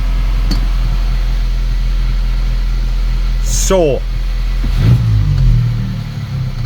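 A VW Polo 1.2 TSI engine runs with a steady low drone, surges unevenly in a brief rising sweep, then settles back to idle, with someone talking briefly over it.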